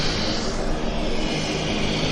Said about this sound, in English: Westjet heading out now.